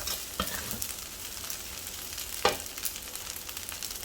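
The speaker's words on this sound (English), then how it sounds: "Finally, we're going to add in the fried anchovies. Stir it well." Fried rice, village style with fried anchovies, is stirred in a pan: steady close sizzling with a few sharp scraping clinks of the spatula against the pan, and no voices.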